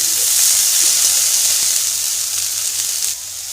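Cauliflower and potatoes fry in hot oil with asafoetida and cumin, giving a loud, continuous, close sizzle that eases slightly toward the end, with no talking.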